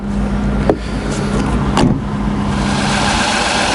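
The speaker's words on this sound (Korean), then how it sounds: "지금 들어봐도 엔진 소리 굉장히 조용하고" Genesis G80 with a 3.3 GDI gasoline engine and 8-speed automatic, idling steadily with a quiet, even hum throughout, broken by two brief clicks or knocks near the car.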